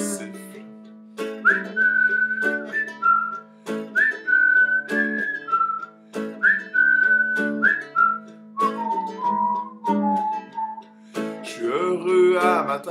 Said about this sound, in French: Je me sens dépressif, il faut que je le siffle.